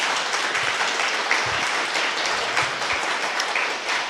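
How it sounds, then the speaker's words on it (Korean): A crowd applauds in a steady wash of clapping that holds at an even level for the whole stretch, with no speech over it. "박수."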